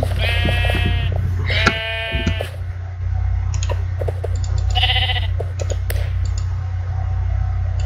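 Sheep in the video game Minecraft bleat several times in a row, clear, wavering cries at close range over a constant low drone, with a few faint clicks between them.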